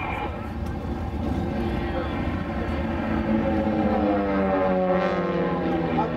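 A propeller aircraft at an airshow performing consecutive loops, its engine drone steady and moderately loud, shifting pitch as it moves, with a commentator talking over it.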